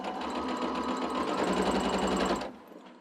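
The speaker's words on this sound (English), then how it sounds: "I'm just sewing them right sides together with a 1/4 inch seam allowance" A sewing machine stitches quilt block seams with a quarter-inch allowance, a loud close steady whirring run that stops abruptly near the end.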